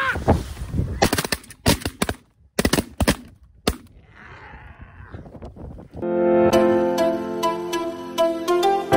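During a snow goose hunt in a South Dakota field, a loud volley of shotgun blasts rings out, then a dense chorus of snow geese honking swells up nearby and keeps going.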